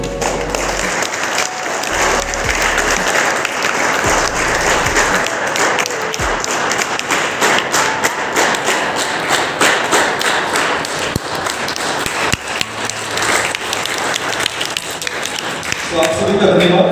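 Sustained applause from a church congregation greeting a priest at a farewell and welcome program in Sehore, steady and dense throughout with scattered louder taps and thuds, crowd noise mixed in.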